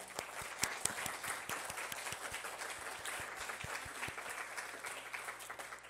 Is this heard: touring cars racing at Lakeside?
no